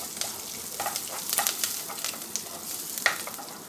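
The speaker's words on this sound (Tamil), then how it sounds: "வெட்டின வெங்காயம் அதையும் கொஞ்சம் வதக்கிக்கிறணும்." Steady sizzling and crackling of chopped onions sautéing in a hot pan for coconut milk rasam, with occasional stirring scrapes, close and moderately loud.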